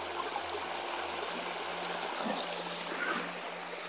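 Water in an ancient river flows steadily over rocks, making a continuous, even rushing and trickling wash that stays close and unbroken throughout, with no voices.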